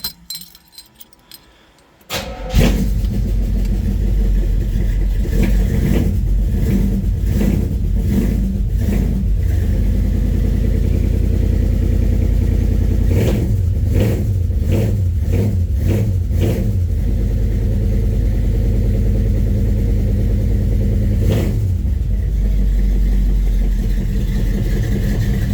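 A 1970 Chevrolet Chevelle is cold-started after a brief jingle of keys. The engine catches loudly and settles into a steady rumbling idle, broken by several short revving bursts.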